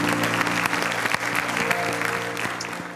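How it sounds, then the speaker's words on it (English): A church congregation claps in praise during a Sunday worship service, steady dense applause across the room with sustained organ or keyboard chords underneath, fading slightly toward the end. "Let's give the Lord a great big praise clap."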